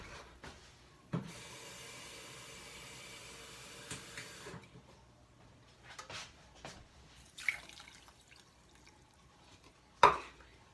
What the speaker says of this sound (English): And I'm going to put a cup of water.